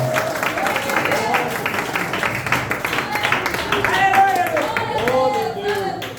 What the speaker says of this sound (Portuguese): Podeis se sentar, batendo a linda salva de palmas, que agradece ao nome do Senhor.